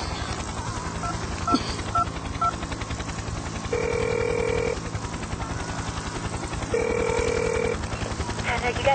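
Two sustained electronic telephone tones, each about a second long with a short gap between them, heard while someone places a call. A steady low mechanical drone runs underneath, and there is occasional faint talk.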